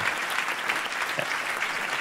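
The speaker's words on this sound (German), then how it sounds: "Applaus." Steady, dense applause from a theatre audience at a Berlin science slam fills the room as a speaker is welcomed to the stage, even and continuous with no voices over it.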